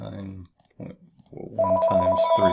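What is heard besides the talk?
home telephone ringing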